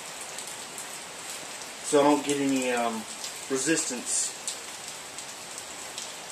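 Steady rain patters and hisses throughout while a man works outdoors at a house, his close voice speaking in short bursts over the constant downpour.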